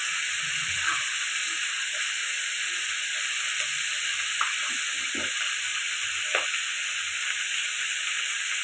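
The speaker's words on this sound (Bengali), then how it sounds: "এটা একটু লাল লাল করে ভেজে নেবো," Fish frying in a pan gives a steady hiss and sizzle that runs throughout, with a few faint clinks and soft handling noises beneath it and no talk.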